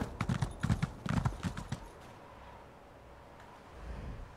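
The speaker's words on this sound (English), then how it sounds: "Now we can get on the horse, we've got more stamina." Horse hooves clip-clop in the Elder Scrolls video game as a rider sets off, several quick rhythmic hoofbeats for about two seconds, then fading into quiet ambience, no talk.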